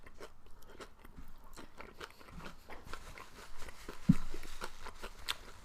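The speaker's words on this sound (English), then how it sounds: "That last bite had a lot of kimchi." Kimchi nachos being bitten and chewed close up, with a run of soft crunchy mouth sounds and one sharper crunch near the end, no talking.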